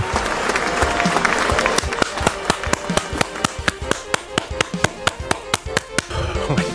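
A small group claps in a quick, steady, even rhythm, sharp close slaps that repeat over noisy chatter and background sound.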